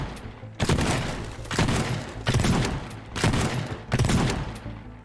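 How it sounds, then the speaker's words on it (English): Repeated shotgun blasts in the video game Teardown, four loud heavy booming shots spaced about a second apart, each with a long rumbling decay, close and dominant with no talk. "Shotgun."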